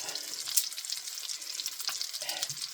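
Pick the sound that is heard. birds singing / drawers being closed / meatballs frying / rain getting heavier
meatballs frying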